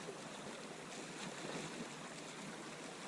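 Lake water at the Lake Tahoe shoreline sloshes as a caught rainbow trout is swished back and forth, a faint, continuous broadband splashing with no talk.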